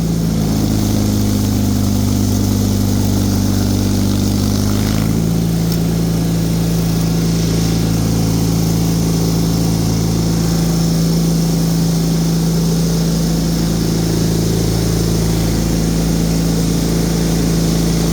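A Bolens HT23 snow blower engine works through heavy, melting deep snow, a loud, continuous close-up drone whose pitch drops and wavers under load partway through.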